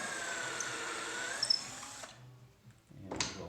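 A power drill drives into the breadboard end of a hall table, a sustained whirring whine for about two seconds, then a pause and a short second burst near the end.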